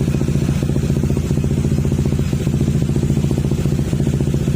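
A Honda ADV160 scooter engine with a remapped ECU idles close by in a steady, loud, evenly pulsing drone, alone without voices.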